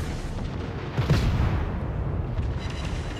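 A warship explosion in the naval combat game World of Warships, a dense rumbling boom over continuous loud battle noise, with a slightly stronger burst partway through and no speech.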